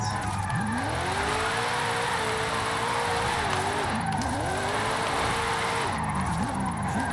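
A 1999 Mitsubishi Lancer Evo VI GSR with all-wheel drive drifts in a racing game, its engine droning and rising and falling in long sweeps with tire squeal through the slides, loud and continuous.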